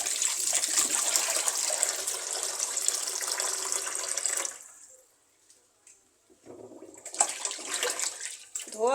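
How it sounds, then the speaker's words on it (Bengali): Fish being rinsed under running water at a kitchen sink, a steady close splashing gush that stops for a moment, then resumes, with no talking. "মাছটা ভালো করে ধুয়ে নিচ্ছি"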